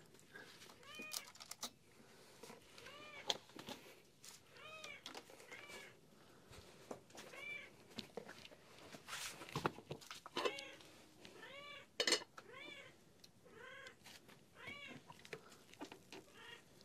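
A hungry cat meowing over and over, close and fairly clear, with repeated short meows spread across the whole stretch amid faint household background noise.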